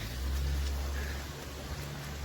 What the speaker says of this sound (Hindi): और हल्की हल्की बारिश हो रही है यहाँ पर